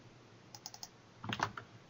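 Computer keyboard shortcut keys tapped for copy and paste while coding: three light, evenly spaced clicks followed by a denser cluster of quick key presses, close and fairly quiet with no speech.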